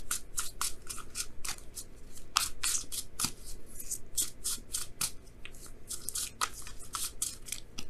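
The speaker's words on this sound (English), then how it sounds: "Let me go ahead and pull an extra card for the Tower." Tarot cards being shuffled and handled, a dense run of quick crisp riffling and snapping clicks that carry on steadily throughout, close and clear with no talking over them.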